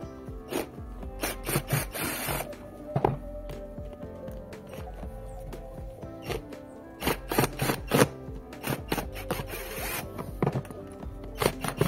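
A Phillips screwdriver loosens screws on a Peugeot 207 during an air filter change, giving repeated scraping, rasping turns in uneven bursts, close and fairly loud, with brief pauses between runs.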